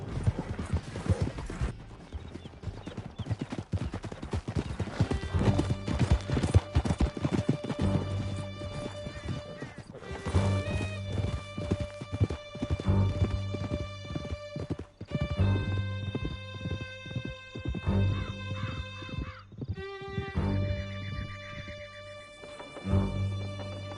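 Horses gallop with steady clip-clop hoofbeats and an occasional whinny in the Red Dead video game, set against a loud, sustained orchestral score that stays prominent throughout.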